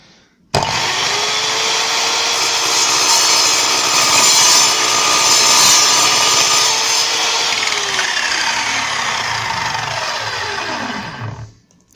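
An Evolution R210CMS mitre saw cuts through an M10 metal coach bolt. A loud, steady whine of blade on steel holds for about eleven seconds, then the motor winds down and stops.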